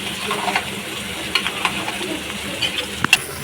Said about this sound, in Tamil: கட் பண்ணியிருக்கிற வெங்காயம் தக்காளி இஞ்சி பூண்டு போட்டு நல்லா வதக்கிக்கலாம்.